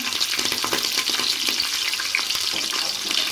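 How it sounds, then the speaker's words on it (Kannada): Curry leaves and chopped green chillies frying in a pan for palak pulao, a bright, crackling hiss that stays close and steady, with faint scattered clicks of stirring and no voices. "ಈಗ ನಾನು ಸ್ವಲ್ಪ ಕರಿಬೇವು ಹಾಕ್ತಾಯಿದ್ದೀನಿ."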